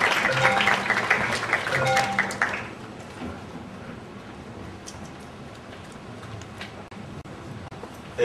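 A crowd at a conference presentation claps in a brief burst of applause that fades after a couple of seconds into quiet room noise with scattered faint taps.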